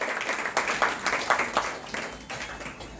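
A crowd at a Shiv Mahapuran katha gathering claps for a sister-in-law, a moderately loud wash of applause that swells and fades in uneven bursts over a few seconds.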